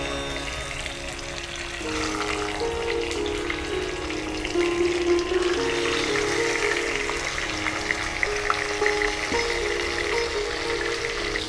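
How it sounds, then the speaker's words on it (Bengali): Pomfret fish hit hot oil in an open-air kitchen and fry with a steady, bright sizzle and crackle, close and continuous under a faint droning background hum. "তেলটা গরম হয়ে গেছে, মাছগুলো ভাজার জন্য ছেড়ে দিচ্ছি।"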